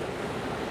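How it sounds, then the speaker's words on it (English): Caribbean Sea surf off the north coast of Aruba gives a steady, broadband wash of breaking waves that fills the whole moment, with no voices. "Those waves are incredible out there."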